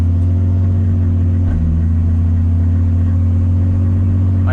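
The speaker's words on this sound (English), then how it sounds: "listen to this car go through the gears" A steady mid-pitched engine drone from a Toyota Supra with a full exhaust, heard up close from inside the car. A brief change in tone partway through may be a gear shift; no hard revving stands out.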